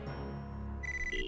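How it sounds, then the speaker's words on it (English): A phone rings in the video game Inazuma Eleven, a short electronic tone rising in pitch in steps, brief and clear over a soft background. "that's the sound of a phone ringing."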